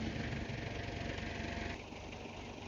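A farm tractor engine with a 3-point hitch runs steadily at close range, a constant mid-pitched idle-like drone that drops slightly in loudness partway through.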